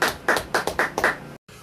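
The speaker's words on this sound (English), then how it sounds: "Round of applause." Round of applause at the end of a talk show interview, about six distinct hand claps in a quick, uneven rhythm, close and fairly faint, with no voices.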